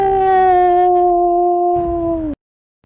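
A single long, loud wolf howl, a steady tonal wail that holds and then bends downward before stopping abruptly, heard alone and close.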